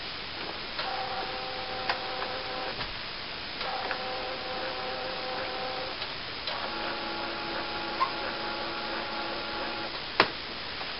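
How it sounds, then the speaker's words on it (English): A Canon iP4200 inkjet printer works through its cycle: steady motor whirring in long stretches, with clicks and ticks between passes and one sharp clack near the end. "The printer's picked it up. It'll now go through a rigmarole now of that it does every time,"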